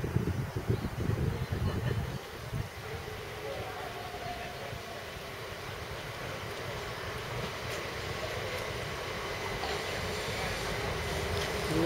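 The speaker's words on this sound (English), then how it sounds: "Here's the train." A train at Longfield rumbles past, a loud close roar that eases into a steady mechanical rush with a faint high whine, while people speak briefly near the start.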